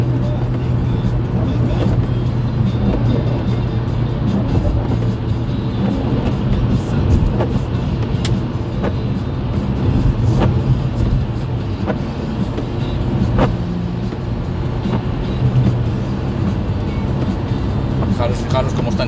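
A six-speed car cruising in fourth gear at 90 km/h on a rain-soaked A2 motorway, giving a steady, loud road and engine drone with tyre hiss throughout, with a voice talking over it.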